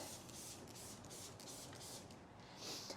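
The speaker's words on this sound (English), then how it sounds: "you kind of just spray this on" A steady, hissing spray of cleaner from a spray bottle onto floor mats runs continuously, faint and close, with no talking over it.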